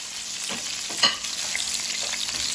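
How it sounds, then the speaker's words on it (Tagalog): Squid stir-frying in a hot pan gives a steady, close sizzle with light stirring scrapes and one sharper clatter partway through. "Ngayon, siyempre, gisa-gisa muna natin."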